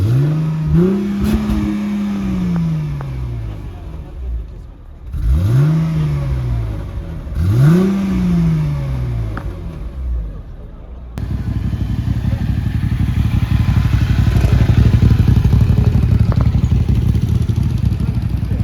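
An engine revs repeatedly, pitch swooping up and falling back three times, then settles into a loud, rough sustained roar close by.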